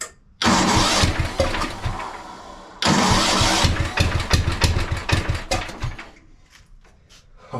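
An old, rare tractor engine cranks over twice in loud, rumbling bursts, then catches and runs with an uneven, chugging idle that sputters and fades toward the end.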